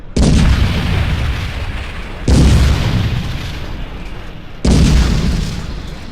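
Shooting at a tank in a prototype video game, three heavy booming blasts, each with a long rumbling decay, spaced about two seconds apart and loud in the foreground.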